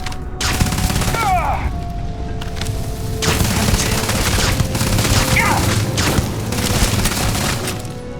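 Gunfire crossfire in Starfield: sustained volleys of shots mixed with heavy booming impacts and a few mechanical whines, loud and close, rolling on through the whole stretch.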